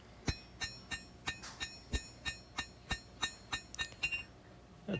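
A hammer strikes the bevels of a forged squirrel tail blade made from scrap steel, landing in a steady series of sharp, ringing metallic blows, roughly three or four per second and close by.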